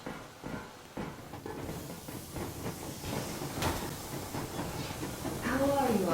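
The Yermak steam train from Metro Exodus rolls along with hissing steam and rumbling, clattering wheels that build toward the end, while voices talk over it.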